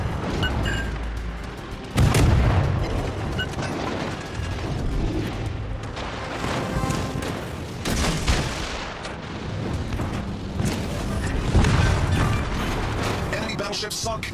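Warship naval gunfire and explosions in the video game War Tales: repeated heavy booms and cannon blasts over a busy battle din, with bursts near 2 and 12 seconds, and game voice lines mixed in.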